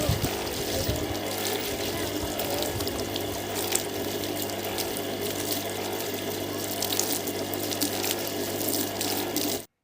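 Water runs and splashes continuously outdoors in a village during hot weather, a steady broadband rush with faint mechanical ticking underneath and occasional brief voices in the background.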